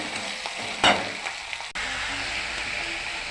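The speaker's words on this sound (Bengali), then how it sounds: "কেটে রাখা টমাটো তো একসঙ্গে কষিয়ে নিব ভালো করে" Chopped tomatoes sauté in a pan for an egg and cauliflower dish, with a soft steady sizzle, a sharp scrape of the spatula early on and a brief dip in the noise partway through.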